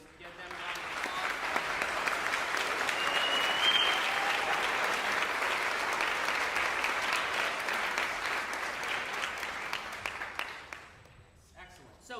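High school band camp audience giving band camp staff a round of applause, clapping that swells within a couple of seconds, holds as a full, steady roar, then fades out near the end.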